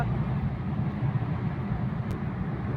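A car travels through a highway tunnel near the Katraj ghat section of a national highway, producing a steady, enclosed low roar of road and engine noise that stays even throughout, with no talk.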